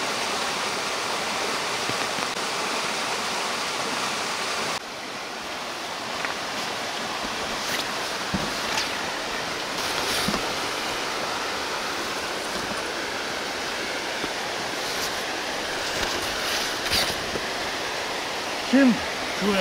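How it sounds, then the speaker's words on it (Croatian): A river and waterfall at Vrelo spring in Pirot, Serbia, rush and murmur in a steady, loud, broadband roar of falling and flowing water that continues unbroken for the whole stretch. "Čim čujem žubor reke, žubor potoka, žubor vodopada, ja ne mogu da odolim, a da ne zastanem i da to pogledam."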